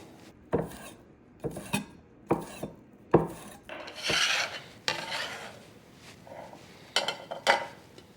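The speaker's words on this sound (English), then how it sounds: "So I have my chives right here, and I'm just going to roughly chop them" A knife roughly chops chives on a board in close, crisp strokes, about a dozen separate cuts landing in short irregular bursts with brief pauses between them.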